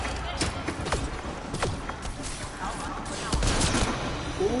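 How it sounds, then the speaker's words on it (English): Scattered gunshots in a video game, sharp cracks spread across a busy battle mix with background noise, a few distinct reports standing out at moderate loudness. "let's try my sniper rifle"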